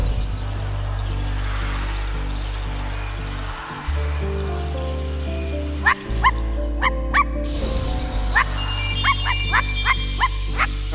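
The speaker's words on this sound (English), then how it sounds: "voice talent that had to sit here and bark" Video game I Am Dead with a voice actor's dog barking: a series of short, sharp barks repeats at a steady, fairly close pace over a droning musical background, with no talking.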